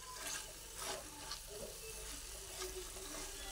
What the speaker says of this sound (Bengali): সজনে ফুল, শিম আর বেগুন একসঙ্গে ভালোভাবে নাড়াচাড়া করে করে ভেজে নিচ্ছি